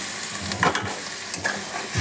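Banana flower mixture stirred while frying in a pan, with a steady close sizzle and a few short scraping strokes of the spoon, no talking.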